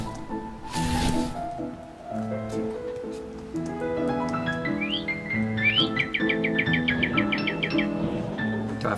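Bird chirps from the video game providence come as a run of quick rising tweets in the second half, layered over a soft tonal music bed, with no speech.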